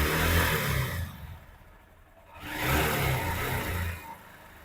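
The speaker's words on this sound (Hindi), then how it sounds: "starting the engine, start the engine," A BS6 motorbike engine starts and runs nearby, revving loudly, dipping briefly, then rising again into a steady mechanical drone.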